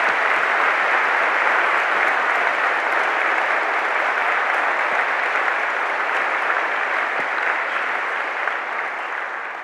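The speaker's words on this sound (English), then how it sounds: "So let's have a round of applause for them." Steady, sustained applause from a large crowd at a graduation ceremony, loud and even throughout with no voices standing out, tapering only slightly at the end.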